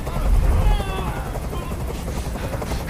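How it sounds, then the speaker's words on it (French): A helicopter in the video game Detroit: Become Human hovers nearby, a loud, steady rotor roar with deep thumping at first, then a constant whir that fills the scene. "Je peux plus supporter ce bruit. Fais dégager cet hélicoptère, maintenant!"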